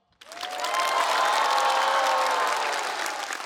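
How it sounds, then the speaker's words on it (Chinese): Applause from a stand-up comedy audience starts suddenly and swells into sustained, dense clapping with some crowd noise, staying loud and even throughout. "我也可以享受这种掌声了"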